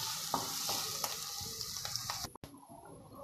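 Onions frying in a pan for egg capsicum masala, a steady close sizzle with regular scraping stirs of a spoon, briefly cut off near the end before resuming.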